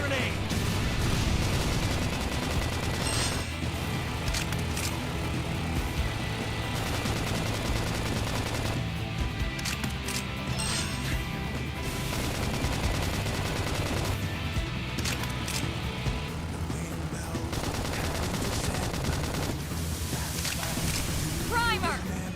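Video game gunfire in Xenoblade Chronicles X: Definitive Edition, with dense rapid shots and bursts over a busy battle mix, while character voices call out during the fight.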